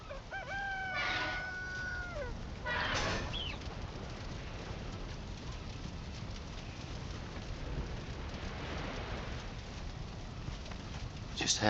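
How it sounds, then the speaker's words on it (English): Chickens in the survival game Valheim crow and cluck in short bursts early on, with a rooster-like call near the start, over a steady rain-like ambient hiss that continues throughout. "Oh, we got 2 chickens right now."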